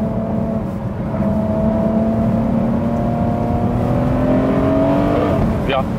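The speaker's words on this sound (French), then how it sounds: "Écoute le bruit, Putain, le feulement. c'est des V12." Ferrari 599 SA Aperta V12 engine pulling hard with a sustained, rising high-pitched howl close by, its tone climbing steadily through the gears before cutting off sharply near the end.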